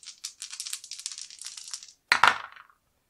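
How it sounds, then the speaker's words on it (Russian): Three dice in a tabletop war board game rattle and clatter in a cupped hand for about two seconds, then a short pause and a single sharp tumble as they land on the table. "Шестерочки нужно выбросить, три кубика."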